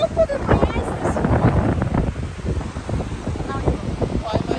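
Strong wind on an ocean beach buffets the microphone in gusty, uneven rumbles, with surf faintly behind; people talk over it close by.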